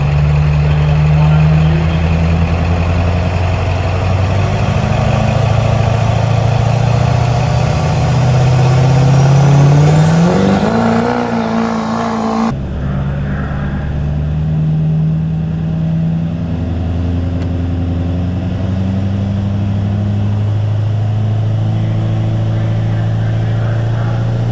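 A Duramax diesel truck pulling a sled roars at full throttle, its engine note climbing steadily in pitch for several seconds before dropping abruptly and settling into a loud, steady heavy drone.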